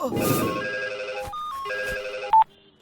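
A telephone rings for an incoming call in a dubbed South Indian action movie, with repeated electronic ring bursts over background music and a brief sharp tone near the end.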